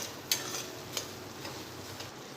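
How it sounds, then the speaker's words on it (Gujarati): Semolina roasts in ghee while being stirred, giving a soft, low sizzle with a few sharp scraping clicks of a spoon against the pan, close and with no talk. "ગોલ્ડન જેવો, ત્યાં સુધી આપણે સોજીને શેકીશું"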